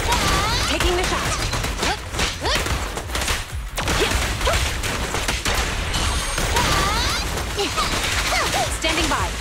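Gunfire from a firefight in the video game Zenless Zone Zero, a dense run of sharp shots and impacts over a busy soundtrack with character voices speaking throughout.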